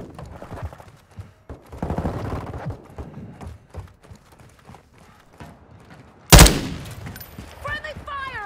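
Friendly gunfire in Call of Duty: Modern Warfare II comes as scattered shots and one loud sharp burst, mixed with footstep-like thumps and muffled voices in the background.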